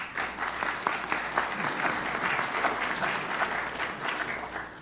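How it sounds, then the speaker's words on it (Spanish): Sustained audience applause fills a formal academic induction ceremony at the Peruvian Academy of Law, a dense steady patter of many hands clapping with no voices over it. "Aplausos."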